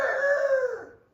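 A preacher mimics a rooster's crow with his voice, one drawn-out, strained cock-a-doodle-doo that rises and then trails off, close and fairly loud.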